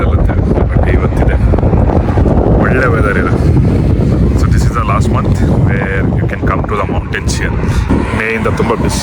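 Strong, cold wind buffets the microphone with a loud, rumbling roar at a high mountain peak in the UAE, while voices talk intermittently underneath.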